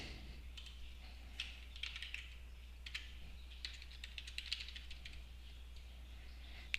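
Quiet typing on a computer keyboard, with irregular key clicks in short clusters over a steady low electrical hum, close by and without speech.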